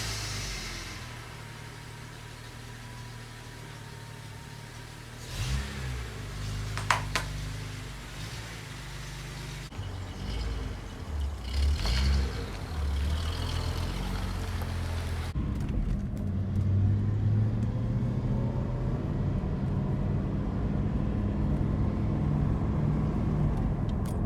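A 1978 Datsun 280Z with a factory stock manual transmission being driven, its engine rumbling low and steady throughout, with a brief clunk and rising revs partway through and a louder, rougher drone near the end.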